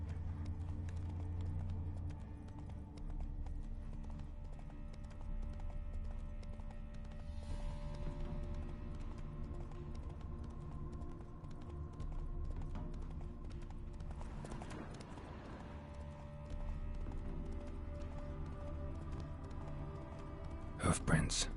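Horse hooves clip-clop steadily through a session of The Witcher 3, a faint rhythmic trot beneath a continuous bed of game ambience and music, with a brief louder burst near the end.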